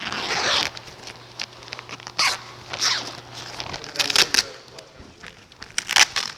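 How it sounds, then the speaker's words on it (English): A zipper on a Tyvek protective suit is pulled open in several short, rasping bursts with crinkling of the plastic-like fabric, close by, among rustling and a faint background hum. "I'm gonna unzip you."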